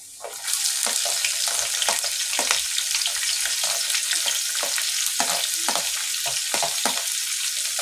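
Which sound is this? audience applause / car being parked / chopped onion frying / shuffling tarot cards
chopped onion frying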